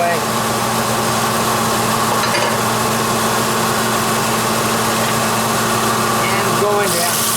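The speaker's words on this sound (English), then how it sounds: "Time to sand it down." A ficus wood bowl being sanded on a woodturning lathe, giving a loud, continuous motor hum with a steady abrasive hiss that does not let up, heard close and alone.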